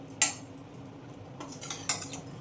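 A metal pot is set back down on a stove, giving two bright clinks of metal on metal about a second and a half apart over a quiet kitchen background.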